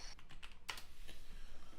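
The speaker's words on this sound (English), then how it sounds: "I'm typing up my recap in the Discord" Typing on a computer keyboard: a quiet, fairly close run of irregular key clicks with one sharper tap, no talking over it.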